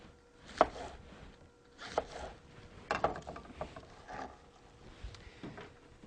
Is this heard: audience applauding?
no